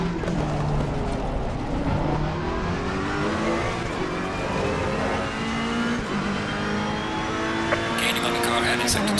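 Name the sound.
Ferrari EVO GT3 race car accelerating at Spa, ACC video game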